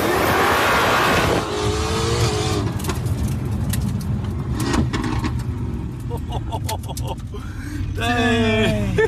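A rebuilt, tuned Mercedes-AMG GT S with bigger turbos launches hard, its engine roaring loudly and revving up through several sharp rising sweeps with gear-change breaks, heard close from inside.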